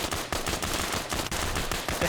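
Rapid, loud semi-automatic fire from AR-15 rifles, rescripted RHS Colt weapons in a military video game, with close shots following one another quickly in an uneven rhythm.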